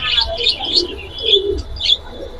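Giribaz and racing pigeons in a large collection give soft, close cooing calls mixed with a few chirps, heard alone without speech.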